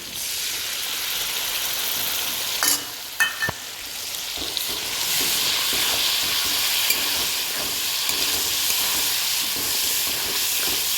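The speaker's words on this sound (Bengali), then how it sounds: "আমি এখানে এখন বাটা মশলাটা দিয়ে দেবো।" Dried fish sizzles and fries steadily in a pan with ground spice paste, a constant loud hiss with a few scraping stirs near the start and no talking.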